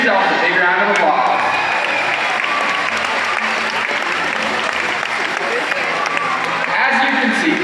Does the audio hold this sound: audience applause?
yes